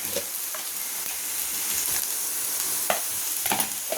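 Steady sizzling of brinjal frying in a pan, with scattered stirring clicks and scrapes over a continuous crackling hiss.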